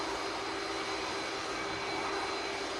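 An EasyJet airliner bound for Geneva rolls onto the runway at Manchester Airport for departure, its engines giving a steady, even, fairly distant roar that holds without a break.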